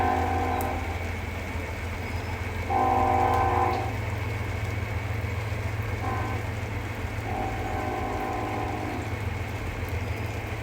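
A northbound Norfolk Southern freight train blows its horn in long, loud blasts, sounding twice, over a steady low locomotive rumble near a rail yard and a small farm crossing.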